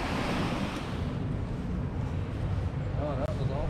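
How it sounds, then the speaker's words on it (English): Ocean waves surge and wash against a jetty in Newport, Oregon, a steady loud roar of surf mixed with wind buffeting the microphone, with a person speaking briefly over it near the end. "Gotta be careful dodging all these waves and everything"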